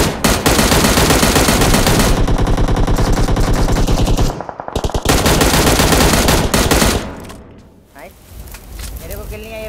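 Loud, sustained automatic gunfire rattles through a battle royale video game fight, with rapid bursts that pause briefly around the middle before resuming and tapering off, while players talk over the action.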